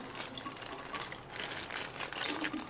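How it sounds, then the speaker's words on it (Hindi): Cold water is poured to fill a container, a continuous splashing, gurgling flow that rises and falls slightly in intensity, close and moderately loud, with no talking. "जो ठंडा पानी है ना उसको मैं यहाँ पे भर देती हूँ।"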